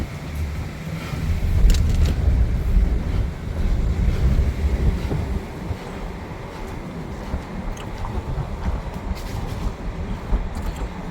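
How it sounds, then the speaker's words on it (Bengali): Sea wind near the waterfront in Fort Lauderdale, Florida, with ships nearby, buffets the microphone in a continuous low rumble. It is louder early on, then eases to a steadier roar, with no talking. "বাতাসটা মেসির বাড়ির কাছ থেকে বাতাসটা আসতেছে"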